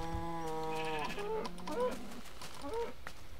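Video game sheep bleat twice in a quick wavering pair, then a third short bleat follows, close and clear over soft background game sound.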